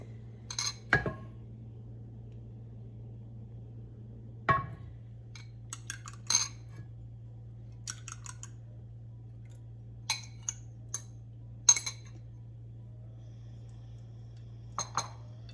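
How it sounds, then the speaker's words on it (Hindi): Eggs are lightly beaten by hand in a bowl, giving scattered sharp clinks and taps of a utensil against the dish at an irregular, unhurried pace over a low steady hum, with no talking. "ये मैंने अंडे जो है वो फेंट लिए, ज़्यादा नहीं फेंट रहे, बस हल्के हाथ से"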